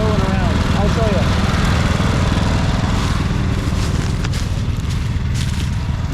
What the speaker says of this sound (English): you can park your mowers around, right where it comes up the hill and around